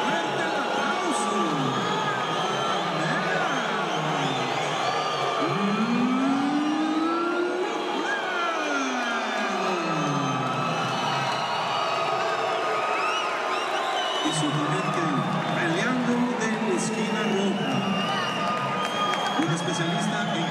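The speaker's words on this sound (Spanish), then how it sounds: "Damas y caballeros, fuerte el aplauso." A crowd claps and cheers at a UWC 06 fight night, a steady roar of noise that persists throughout while an announcer's amplified voice talks over it with sweeping, echoing tones.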